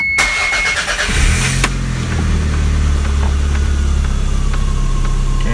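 A 1991 Toyota MR2 Turbo engine cranks briefly and catches, then settles into a steady, loud, close idle that continues to the end.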